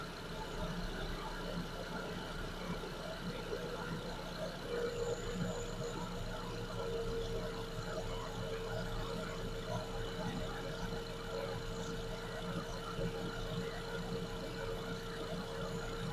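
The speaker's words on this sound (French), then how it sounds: "Le ralenti en train de descendre." A Renault Mégane Scénic engine, running rough on three cylinders, idles steadily close by as its idle speed gradually settles lower, with a low continuous hum and a faint whine.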